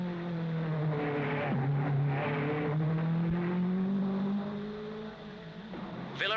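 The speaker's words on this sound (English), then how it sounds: "Moss are well ahead of Ascari, who is lying second, with Trintignant's Ferrari lying third." 1955 Formula 1 race cars at the Monaco Grand Prix, engines howling at high revs with sweeping pitch changes as they pass, loud and continuous, with no talk.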